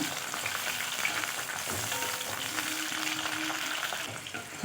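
Bell pepper sautéing in hot oil for a cauliflower and potato masala, giving a steady, close sizzle and fry with faint stirring through the whole stretch and no voices.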